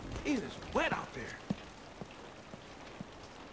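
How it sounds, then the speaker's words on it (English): Heavy rain falls outside in a stormy action-film scene, a faint steady patter with soft isolated drip ticks after a brief vocal exclamation near the start. "Still raining out there"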